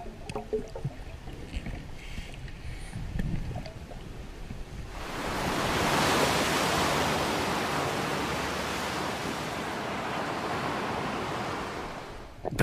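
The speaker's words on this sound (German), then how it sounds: "Das Meer ist aufgewühlt, Sicht nur eine Armlänge weit." Rough, churning sea waves at a beach, a muffled, uneven wash that swells after a few seconds into a loud, continuous broadband roar of surf.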